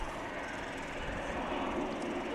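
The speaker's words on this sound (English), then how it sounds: "This plane once again going to Columbia" An airplane flies at DFW Airport with a steady, moderately faint engine drone that holds evenly across the moment, heard from a distance with no clear voices.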